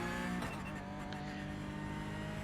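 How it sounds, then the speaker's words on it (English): A Porsche Cup car in iRacing at Mount Panorama Bathurst accelerates out of a corner onto Conrod Straight, its engine note rising and holding in a steady harmonic drone, with light tire squeal early on. "I'm able to pick the throttle up, square the car up and drive out of the corner down Conrod"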